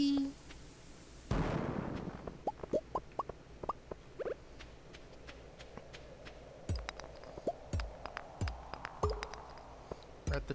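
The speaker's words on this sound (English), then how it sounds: "There you go, cherry bomb." A cherry bomb detonates in the Stardew Valley video game with a sudden sharp blast, followed by a scatter of short popping and plopping game effects and soft impacts, with a voice talking faintly underneath.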